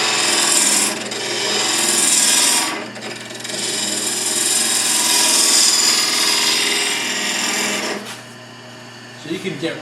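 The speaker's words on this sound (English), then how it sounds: "So you can get right in there with the gouge." Hand gouge rasping and scraping across wood while carving a Townsend document chest, steady close rubbing strokes with short pauses and a few light taps at the end.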